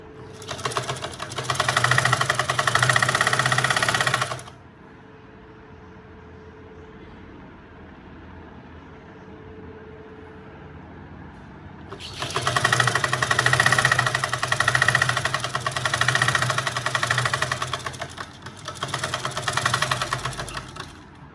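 A sewing machine stitches the side seams of a blouse in two loud, rapid runs, one at the start and a longer one later, separated by a quiet pause of several seconds.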